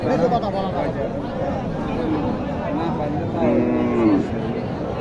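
Cattle low and moo at a busy livestock market in Naogaon, Bangladesh, where local cows and calves are traded; drawn-out bovine calls stand out, with a longer one near the end, over steady crowd chatter and nearby haggling voices.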